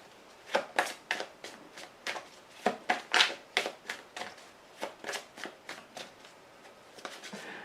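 Tarot cards shuffled by hand, close up: a steady train of soft, crisp riffles and slaps repeating for several seconds with no voices.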